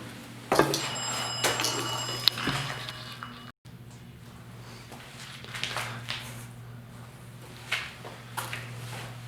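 A telephone in a workshop rings with a bright electronic trill for a couple of seconds, followed by nearby footsteps and handling noises over a steady low hum.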